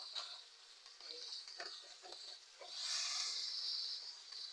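Garlic and onion frying in a pan, a faint, steady sizzle and hiss that swells louder near the end, with scattered small clinks and stirring sounds.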